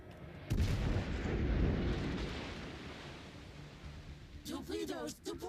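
Naval artillery fire aimed at warships in a video game, a heavy booming blast with a long rumbling tail, followed by a voice talking near the end.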